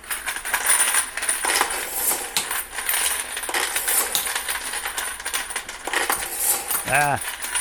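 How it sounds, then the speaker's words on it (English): Light mechanical clicking of a Dillon case feeder on a Lee reloading press rattles on continuously close by, with a brief metallic ringing clatter near the end. "it's going to be a little noisy with it clicking around"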